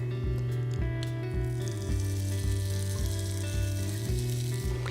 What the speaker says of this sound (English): You want to hear that sizzle in the pan when the batter goes in